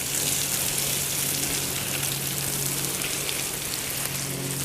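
Water from a hose spraying onto parched garden plants, a steady even hiss of spray running without a break.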